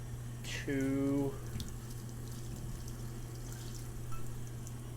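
Water is poured into a pot of brown rice with pre-cut garlic for cooking: a short, faint splash with a rising filling tone lasting under a second, against quiet kitchen background.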